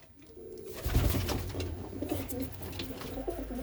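Kara Çirkin pigeons coo softly close by, a few low, rolling coos in quick succession, with no talking.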